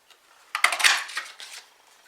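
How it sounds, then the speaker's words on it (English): A butterfly duet punch cutting a paper butterfly, heard as a short close crunch and clatter of the punch pressing through paper, lasting about a second and then fading. "we're going to cut out our butterfly using our butterfly duet punch"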